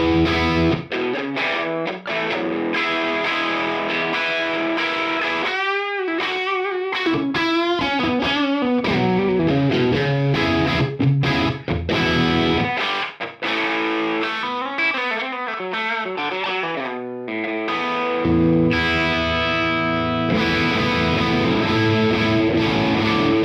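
An electric guitar played through a Friedman Buxom Boost pedal, a driven, distorted tone with sustained chords and single-note runs, loud and continuous with brief pauses.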